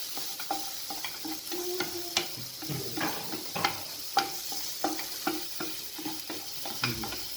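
Duck egg fry is sautéed in a pan, with constant sizzling and brisk, regular spatula scrapes and taps against the metal, close and fairly loud with no talk.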